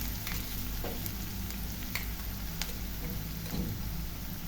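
Onions sauté in a hot pan with a constant close sizzle, broken by occasional clinks and scrapes of stirring, and no talk.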